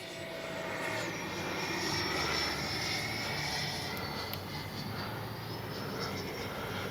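An FMS 80mm F-86 RC model jet sits with its ducted-fan engine spooled up, making a continuous faint high whine and airy rush that holds steady throughout.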